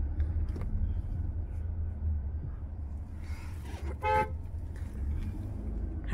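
A vehicle horn toots briefly on a village road to push buffaloes out of the way, a short harmonic honk standing out over a steady low engine rumble with faint background noise.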